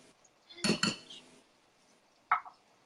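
Avocado and white bean salad goes into a bowl with a pair of quick clinks of a utensil against the dish, then a single lighter knock a moment later, all close and fairly quiet.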